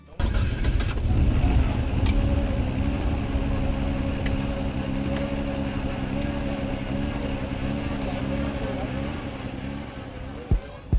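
A Nissan Skyline GT-R R34's engine runs close by, a steady droning idle with a rough, swinging tone and a couple of sharp blips near the end, heard without talk.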